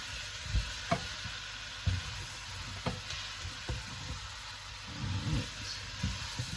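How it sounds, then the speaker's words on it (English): Spoon scrapes and soft stirring knocks in a pot of leek and potato soup cooking in a little oil, with a low sizzle underneath, several distinct strokes close by and no talking. "I need to keep stirring as I haven't used much oil. I don't want it to start sticking."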